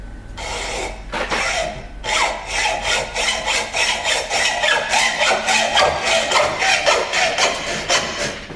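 A hacksaw cuts a metal crankcase breather tube for a Case 830 tractor, with quick, even back-and-forth rasping strokes, close and loud, after a few handling knocks at the start.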